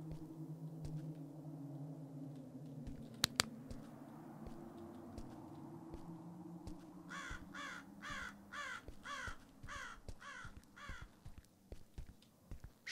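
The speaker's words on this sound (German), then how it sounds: "Hörst du diese lästige Krähe?" A crow caws in a video game set around a rescue of someone buried alive, a rapid series of about eight harsh calls sounding over a steady low ambient hum, with scattered faint clicks and no voices.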